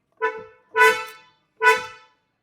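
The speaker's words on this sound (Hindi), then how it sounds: "ये इसका हॉर्न है" Three short horn honks from a Hyundai Creta N-Line, the first brief and the next two longer, loud and close with pauses between them.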